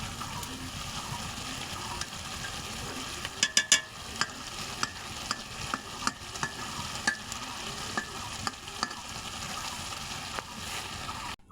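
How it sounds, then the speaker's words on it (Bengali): A small-fish curry (chochchori) is gently stirred in a pan. A soft, constant sizzle runs throughout, with a cluster of sharp spoon scrapes and clinks near the middle and scattered taps after. No one speaks. "একটু হালকা নাড়াই দিই"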